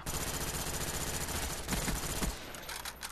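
Rapid automatic gunfire fills a free-for-all shooter match, dense sustained bursts of rattling shots that stop abruptly near the end, leaving quieter game ambience.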